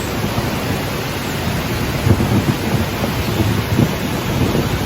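Low, rumbling thunder rolling under a heavy, steady wash of rain-like noise at a bridge in Bukidnon, loud and continuous with a few deeper swells, and no voices.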